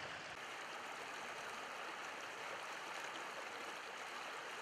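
Rushing water of a rapid pouring into a pool on the Provo River, a steady, dense broadband roar that stays constant and close throughout with no voices.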